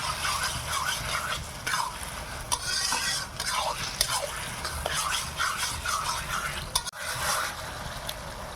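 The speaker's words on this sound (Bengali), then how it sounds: "আদা রসুনটা ভালো করে ভেজে নেই" Ginger and garlic fry in oil in a pan, a loud continuous sizzle with repeated spatula scrapes and stirs close by.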